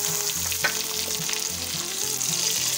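Meat (gosht) frying in a pot for a chana dal curry, a continuous hissing sizzle with a few sharp pops and low stirring knocks, near and steady, without speech.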